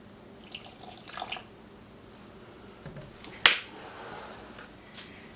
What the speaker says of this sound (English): And then a tablespoon of apple cider vinegar. So just a splash, right?